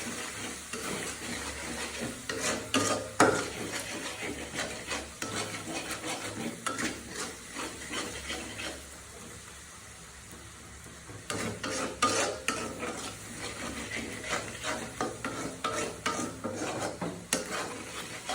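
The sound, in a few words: spice paste (masala) frying and being stirred for chicken curry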